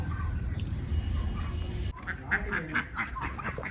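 Ducks quack in a quick series of calls nearby on a farm, following a low rumbling background that cuts off abruptly.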